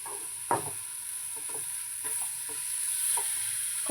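Carrot halwa with roasted gram being stirred in a pan, a steady faint sizzle broken by soft scraping strokes and taps at irregular intervals, close and quiet with no talk.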